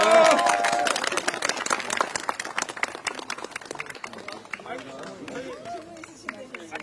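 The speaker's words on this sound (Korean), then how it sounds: "격려와 위로와 연대의 박수를 보내면서 오늘 이 자리 마치도록 하겠습니다." A room at a legal defense team's press conference fills with a burst of applause that fades gradually, leaving scattered claps and murmuring as people begin talking.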